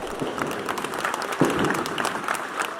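Applause at a Mangalarga Marchador horse breeders' association election, a crowd clapping steadily at moderate distance with a faint murmur of voices underneath.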